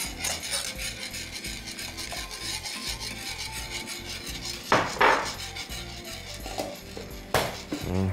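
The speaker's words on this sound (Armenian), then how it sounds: "մյուս քայլը հարկավոր է պանիրը քերել" Cheese being grated for lasagna, a rhythmic rasping scrape of repeated strokes against a metal grater, close up, with a few sharper clatters of the grater or dishes. Light music plays underneath.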